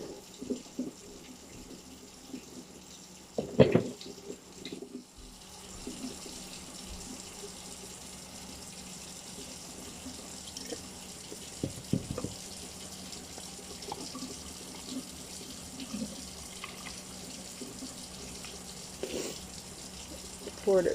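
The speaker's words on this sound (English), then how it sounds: "Now I'll pour my decaf in here." Decaf coffee poured into an ice cube tray at home, a quiet steady trickle of liquid running on under low room noise with a couple of brief clunks.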